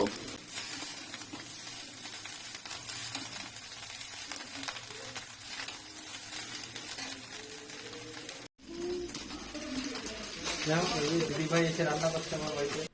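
Fried rice sizzling and frying in a pan during home cooking, a steady hiss throughout with scraping stirs, growing louder near the end, mostly under ongoing talk.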